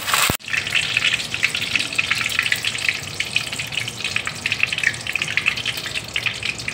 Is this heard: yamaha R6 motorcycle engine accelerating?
no